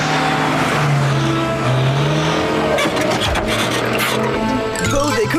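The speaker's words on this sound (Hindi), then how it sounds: "वो देखो, वो कार उस तरफ जा रही है।" A cartoon car drives past with a loud engine that rises and falls as it goes by, then tires squeal and it revs, all under a busy cartoon soundtrack.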